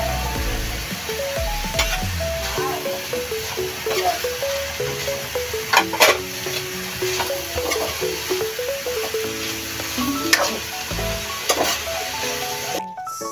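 Broccoli and flour are stirred in a hot pan, producing a continuous sizzle with repeated utensil scrapes and clinks against the pan, close and without talk.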